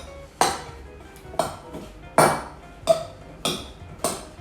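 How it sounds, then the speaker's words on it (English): A spoon knocks against a bowl while walnuts are mixed into apples for a strudel filling, six sharp clinks spaced about half a second to a second apart, close and clear. "I'm gonna take my walnuts and mix them in there now."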